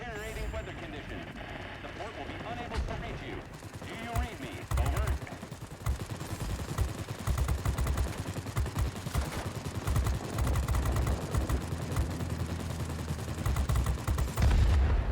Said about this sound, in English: Pretty lousy shooting there, but got it in the end.